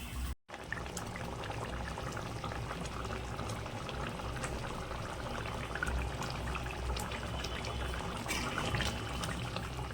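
Thin mutton curry simmers at a steady boil, a continuous dense bubbling and gurgling that stays close and even throughout with no voices.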